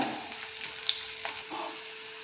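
Cashews and ginger frying gently in a pan over a low flame while making pongal, a soft, close, continuous sizzle with faint crackles and occasional stirring.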